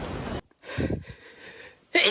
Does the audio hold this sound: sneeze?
yes